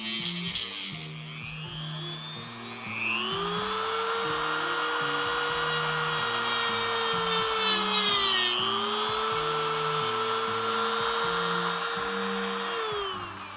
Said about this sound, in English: We're going to go back to the Dremel again. Just gonna clean it up a little bit